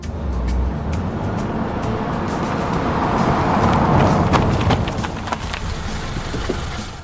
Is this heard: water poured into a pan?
no